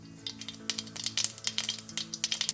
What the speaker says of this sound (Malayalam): കടുകെല്ലാം പൊട്ടിക്കഴിയുമ്പോൾ തീ ഏറ്റവും ലോ ഫ്ലെയിമിലേക്ക് വെച്ച ശേഷം